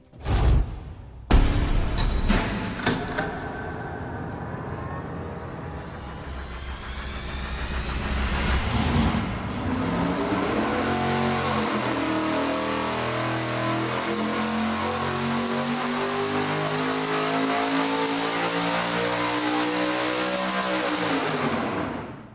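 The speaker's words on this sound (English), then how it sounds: "it's cool revving an engine this big, that high" A big engine revs hard on a dyno, its pitch climbing steadily into a loud sustained roar at high rpm, then easing off at the end.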